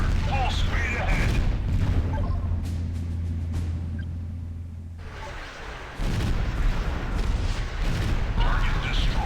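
Naval guns fire a salvo in the Art of War 3 strategy game, heavy deep booms rolling under radio-style voice callouts, fading briefly before another burst of blasts and rumbling.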